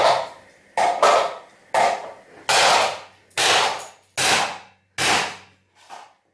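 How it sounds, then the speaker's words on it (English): Seven sharp hammer blows strike the metal of a weighing scale at a steady, unhurried pace, each ringing briefly before the next, the last one lighter. "So I just need to give it another few taps of the hammer."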